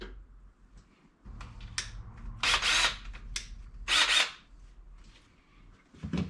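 A power drill whirs in short bursts, two louder runs as it bites into material, with quieter mechanical noise between.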